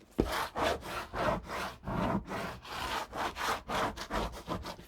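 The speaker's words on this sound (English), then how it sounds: "I'm going to burnish this. Then I'm going to turn it over and burnish it as well." The side of a bone folder burnishes paper on a mini album, giving about a dozen rhythmic back-and-forth rubbing strokes that sound close and steady, with no talk.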